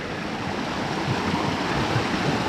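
A small stream swollen after heavy rain rushes steadily over its bed, a close, continuous broadband gush with no voices.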